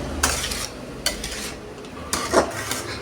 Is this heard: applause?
no